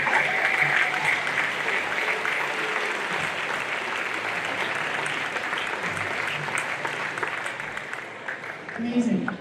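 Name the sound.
audience applause at a school band concert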